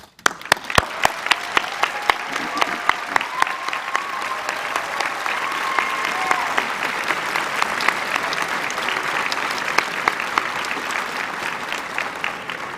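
A large convocation audience claps in sustained, even applause that carries on for a long stretch, with sharp individual hand claps standing out near the front of the broad wash of sound.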